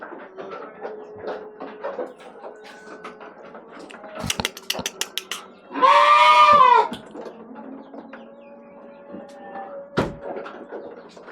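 Dorper sheep in a breeding pen give a loud, close bleat midway, with thumps and knocks around it while someone talks before and after.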